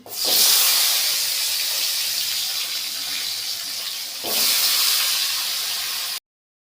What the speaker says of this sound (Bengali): এবার সব ভেজে নেবো। আলু কুমড়ো ছেড়ে দিচ্ছি।